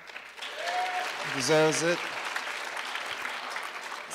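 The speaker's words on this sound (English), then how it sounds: "Give our host another round of applause." An audience at a student faculty show applauds the host, a swell of clapping and cheering rising and fading over a few seconds while a voice speaks briefly over it.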